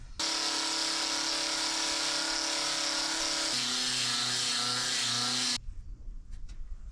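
A grinder strips old paint off timber with a steady, loud high-pitched whine that holds for about five seconds, drops slightly in pitch midway as it bites, then cuts off into quiet handling noise.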